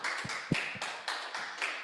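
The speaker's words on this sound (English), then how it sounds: "Can we all give Kuhan a round of applause?" A small audience at a business presentation claps in a brief, sparse burst, a few distinct hand claps standing out from the patter.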